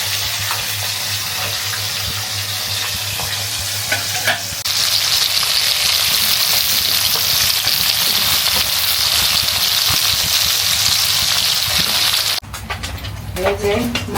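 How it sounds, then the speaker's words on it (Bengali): Fish frying in a pan in a home kitchen gives a steady loud sizzle, with stirring and a brief burst of running water at the end. "এই যে মাছ ভাজা হয়ে গেছে।"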